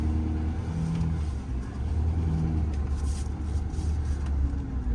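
A 2019 Ford F-550 crew cab 4WD work truck with a crane and service bed, driving and turning, its engine a steady low rumble and drone heard from inside the cab, without talk.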